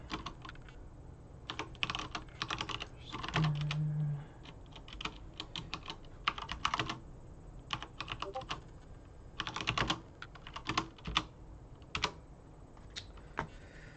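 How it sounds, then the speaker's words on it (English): Busy typing on a computer keyboard during an online Japanese mahjong game, bursts of rapid key clicks with brief pauses, close and moderately quiet, with no voices. "So much typing."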